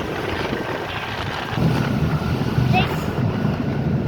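Heavy wind at Marina Beach buffets the microphone with a steady low roar that grows stronger partway through, sounding close and blustery outdoors.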